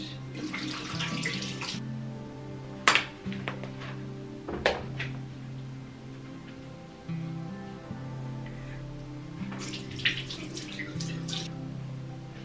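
Tap water runs continuously into a sink during face washing at night, a soft steady stream broken by a few sharp splashes and clatters near the beginning, middle and end; no one speaks.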